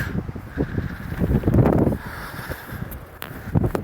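A strong, gusty wind sweeps across an open farm field during spring harrowing, buffeting the microphone in uneven rumbling bursts that rise and fall, loudest around the middle, with no voices.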